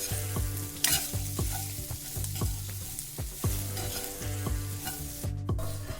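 Chili masala for mirchi masala is stirred in a frying pan with a spatula: steady, close sizzling under rhythmic scraping strokes roughly once a second, with no talking.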